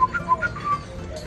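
A person whistles a short series of quick, high notes in rhythm at a Gyr cattle ranch in El Salvador, fairly close and clear over faint background noise.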